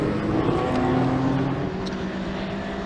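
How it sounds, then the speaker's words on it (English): Vintage touring cars, a BMW among them, roar past on the Brands Hatch circuit during a demonstration run, giving a loud, continuous engine drone that fades slightly as they pass. "listen to them roar as well as the BMW goes past us as well"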